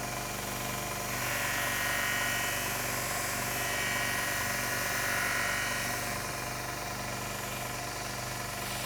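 A motorized buffing wheel loaded with buffing compound spins steadily against a knife edge, a continuous whirring drone with a brighter grinding band swelling for several seconds mid-way, no voices.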